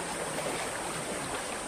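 Water rushes steadily through a Japanese satoyama village channel, an overgrown stream in the countryside, as a close, continuous broadband flow with no voices.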